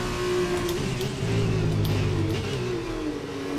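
Race car engine at full throttle in the F2 2020 video game at Austria, a loud steady high-pitched drone that holds its pitch and dips slightly near the end, with a lower rumble layered beneath.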